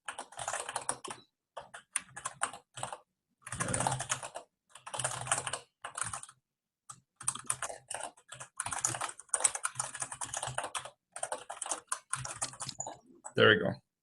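Keyboard typing while a code comment is written in Haskell source, with bursts of key clicks and pauses, mixed with a voice talking through much of it.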